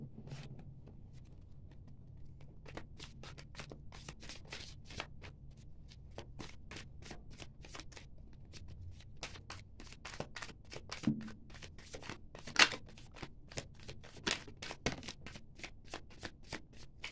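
Tarot cards shuffled by hand, a long run of soft, quick riffling clicks and flicks, close and quiet with no talking.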